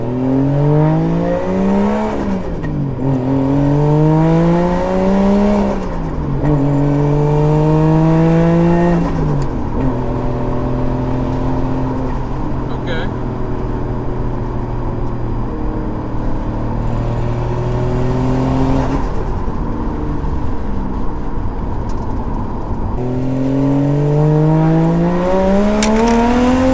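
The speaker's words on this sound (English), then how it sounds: "we're gonna take this thing for a drive and see if the car feels any different with the clean intake" A Lexus IS300 with a 1JZ engine and freshly cleaned intake drives on the road, revving up through repeated gear pulls with rising engine tones and brief shifts, loud and close throughout.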